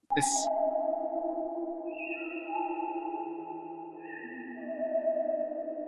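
A sharp attack followed by long, layered sustained tones that ring and shift pitch, a guitar processed with a multi-tap delay, echoing, quiet and spacious.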